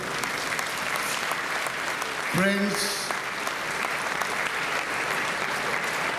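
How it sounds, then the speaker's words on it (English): Audience applause at a university convocation ceremony, sustained dense clapping throughout with a brief voice speaking over it near the middle. "Give a round of applause to your parents"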